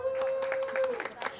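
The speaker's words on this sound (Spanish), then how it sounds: "Damos un aplauso también." Audience applause at a book presentation for an arriving speaker, with scattered, moderately close claps over a steady held tone and some voices in the room.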